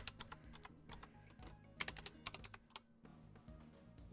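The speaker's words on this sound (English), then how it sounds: "Just gonna press the buttons on my keyboard." Irregular clusters of quick keyboard clicks on a computer keyboard, close and fairly crisp, tapping in bursts with brief pauses between them.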